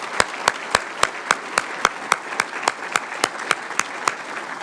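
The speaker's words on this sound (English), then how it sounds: "Let's give our sponsors a round of applause." An audience at the 2016 South Dakota Governor's Agricultural Summit claps for sponsors, a brief run of steady, evenly spaced claps that sounds like a small group.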